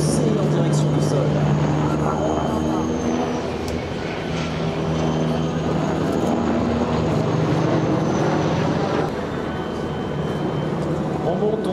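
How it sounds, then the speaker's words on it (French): An EC 665 Tigre attack helicopter maneuvers at a flying display in Hyères, climbing and diving toward the ground, its loud, continuous rotor and engine roar steady throughout while someone comments over it. "le pilote va actionner le manche vers l'avant en mettant un petit peu de pied et il va foncer en direction du sol"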